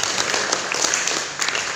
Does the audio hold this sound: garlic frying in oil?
no